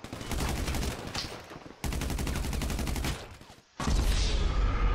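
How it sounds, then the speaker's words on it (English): Rapid automatic gunfire in a GTA V game: dense, loud bursts of machine-gun fire in two long volleys, a short pause, then another burst. "Where the hell am I getting shot from?"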